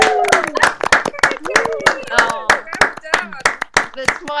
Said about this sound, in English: We're not having a clubhouse mic clap.